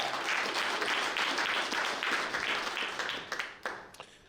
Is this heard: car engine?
no